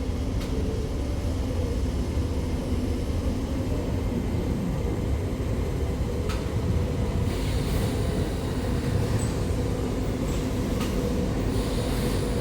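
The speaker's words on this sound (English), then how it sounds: "taking a look at one of the old Tyne and Wear Metro trains, arriving at Sunderland Station, heading north to Newcastle Airport" An old Tyne and Wear Metro train pulls into Sunderland Station on its way north, a steady loud rumble of wheels and motors rolling continuously with a few sharp metallic squeals, heard alone without voices.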